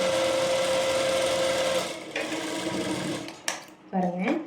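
Sewing machine stitching a half-inch fold on blouse fabric, a loud, close continuous whirring run that slows and stops, followed by a short restart with a few brief mechanical clicks.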